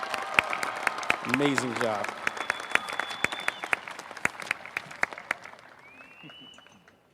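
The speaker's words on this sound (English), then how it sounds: "Can we get one more round of applause for our two valedictory speakers?" A college commencement audience applauds the valedictory speakers, sustained crowd clapping with a speaker's voice briefly over it, fading out toward the end.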